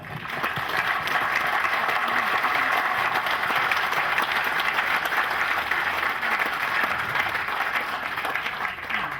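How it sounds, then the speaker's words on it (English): Audience applause for Tony at a Vickers VC10 50th anniversary event at Brooklands Museum, a steady, full roomful of clapping that holds evenly throughout and tails off slightly at the end. "so round of applause, I think, for Tony."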